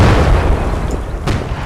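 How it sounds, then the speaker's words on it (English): Artillery fire in the World War II game Gates of Hell, heard as a loud continuous battlefield rumble of booming blasts, with one sharper crack near the end; no one speaks. "Oh, they have more artillery."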